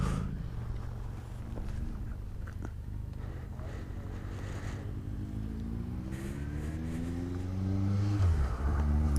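A motorcycle engine idles roughly and unevenly on a mountain pass climb, its steady low rumble wavering before a louder surge near the end.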